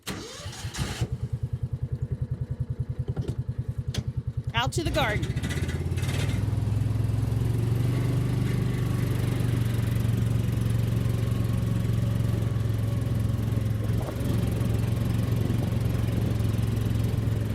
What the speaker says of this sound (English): We're going for a little ride on the tractor.